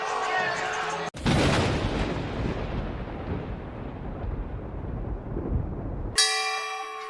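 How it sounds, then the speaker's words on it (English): Boxing ring bell ending a round in a pro fight between Isaac Cruz and Thomas Mattice: a loud metallic ringing rises over a roaring arena crowd and comes in two bursts. "And Mattice in big trouble at the bell."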